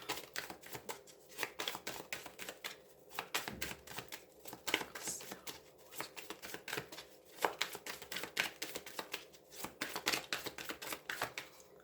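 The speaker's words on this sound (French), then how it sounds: "on va mélanger et on va mettre 2 cartes sur chaque domaine" Tarot cards being shuffled close up, a rapid, continuous flutter of crisp riffling slaps and soft card rustles, fairly quiet and unbroken, with no talking.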